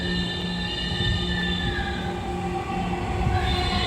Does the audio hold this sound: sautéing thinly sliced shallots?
no